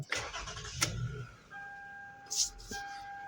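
A 2011 Toyota Sienna engine with a newly replaced alternator cranks briefly with a sharp burst, then catches and settles into a quiet idle, with a steady electronic chime tone running alongside.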